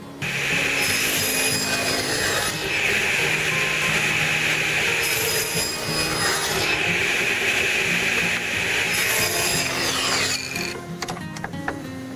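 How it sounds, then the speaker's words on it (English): Pieces of a wooden jewelry box are beveled with a power tool, a loud, continuous grinding whine that rises and dips in long passes before trailing off into scattered scraping near the end. "so I'm just going to bevel the top and bottom."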